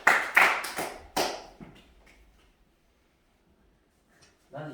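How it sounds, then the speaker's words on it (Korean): A small group claps three times in quick succession, sharp distinct hand claps close to the microphone, followed by near silence and a brief sound at the end. "박수 세 번 시작."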